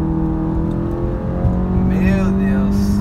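VW Golf GTI Stage 2 rated at 285 wheel horsepower launching hard from a run-up, engine note climbing steadily and loud from inside the car, with a voice talking over it.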